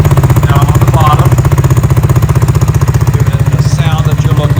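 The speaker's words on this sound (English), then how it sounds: "single exhaust, the side pipe down on the bottom," Steady throbbing idle of a Cougar Vitacci XMT 250 motorcycle through its single low side exhaust pipe, close and loud, with someone talking over the engine.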